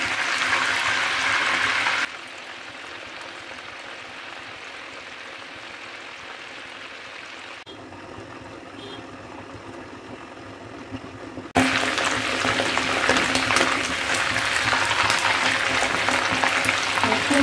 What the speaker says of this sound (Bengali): ভেজে দিচ্ছি, পরে উঠাবো ঢাকনা।